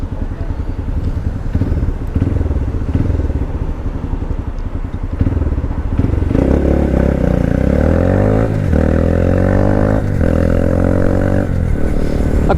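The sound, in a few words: Honda Grom motorcycle engine at full throttle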